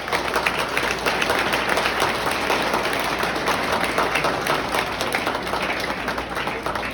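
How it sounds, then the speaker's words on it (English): Loud, dense crowd applause at a youth football league awards breakfast, continuous clapping from many people filling the room with a few voices mixed in. "So a big round of applause for them right now."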